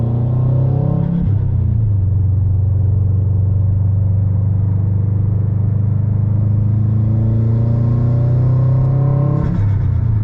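Subaru WRX STI engine rumbles loudly and steadily from close by, with a brief shift in pitch near the start and a sharp release near the end that may be the blow-off valve.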